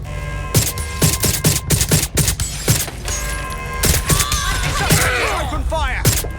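Rapid bursts of video-game gunfire from Watch Dogs Legion crack out in dense volleys, sharp shots stacking over a constant background din during a security alert at a quantum lab.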